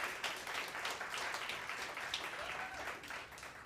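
An audience at a community benefit concert applauds steadily, a full, continuous patter of many hands heard from some distance that tapers slightly toward the end.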